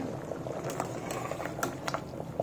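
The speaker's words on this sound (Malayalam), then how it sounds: "ഇപ്പം നന്നായിട്ട് തിളച്ചിട്ടുണ്ട്." Salted water for cooking rice boils hard in a pot, a close, steady bubbling with scattered sharper pops and crackles throughout.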